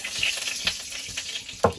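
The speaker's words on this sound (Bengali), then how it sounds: "কড়াইতে তেল দিয়ে দেবো আলুগুলো ভেজে নেবো" Potatoes frying in oil in a wok give a low, steady sizzle, with a few soft scrapes and knocks over it and a sharper clatter near the end.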